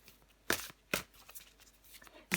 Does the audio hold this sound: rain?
no